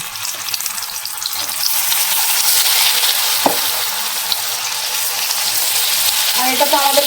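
Mushrooms fry in a hot iron wok for mushroom chilli, a loud, continuous close sizzle with a single sharp clink partway through and a faint voice near the end.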